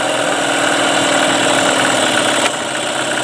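A Mercury Marine 9.9 outboard motor on a Tracker boat runs steadily on choke, a loud, close, continuous engine drone with a slight drop in level near the end.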